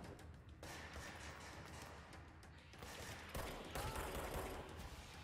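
Rapid gunfire from the video game Control, played on Google Stadia, comes through as dense, sustained bursts of shots with mechanical clatter, fairly quiet overall, with a heavier volley near the end.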